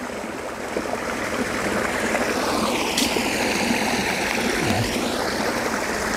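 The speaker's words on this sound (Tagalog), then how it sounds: "Malakas po yung tubig" Strong, rushing water roars steadily and close by, a dense continuous churn with no talking over it.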